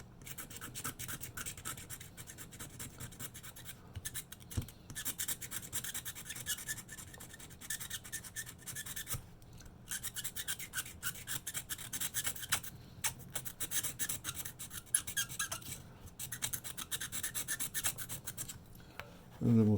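Tool scraping old rubber residue off the metal of a Roberts #102 boiler cap, persistent close gritty rasping strokes with brief pauses between passes.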